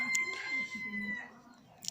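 Hens on a backyard poultry setup with trestle perches give soft, low clucking murmurs through most of the stretch, with a brief higher call near the start and another near the end, fairly close and moderately quiet.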